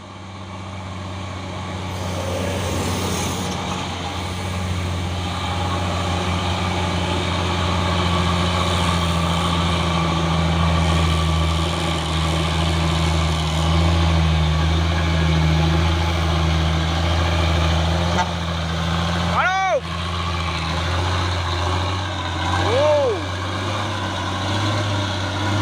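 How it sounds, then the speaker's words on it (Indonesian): An orange 6x2 Kalimantan truck idles with a steady, deep engine drone that stays even throughout. A brief rising horn-like toot cuts in near the end, and no one speaks. "Dan ini juga ada satu nih truk oren pemain 6x2 dari truk"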